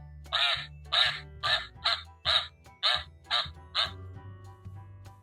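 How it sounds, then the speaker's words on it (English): A duck quacks from an animal sound puzzle toy in a run of about nine evenly spaced, nasal quacks, clear and close, with a faint hum beneath and no talking. "Look, a duck."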